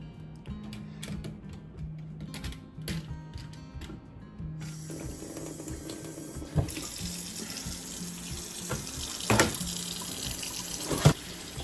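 Tap water streams steadily over boiled eggs in a sink to cool them, a close hiss with occasional clunks and handling knocks, following some quieter clattering.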